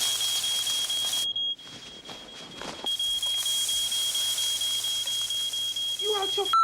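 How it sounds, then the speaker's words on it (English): A smoke alarm in a film scene gives a shrill, continuous high-pitched tone, briefly cutting out midway while muffled noise and voices come through, then resumes. "the smoke alarm turns off immediately"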